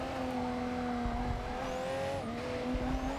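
A 2002 Nissan Skyline GT-R engine in Forza Motorsport 6 drones steadily at sustained speed, its pitch dipping briefly mid-run before holding again, loud and continuous with no voices.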